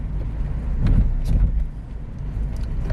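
A manual-gearbox car's engine revs up and settles as gears are shifted without the clutch, a low rumbling drone with a couple of brief surges, close and fairly loud.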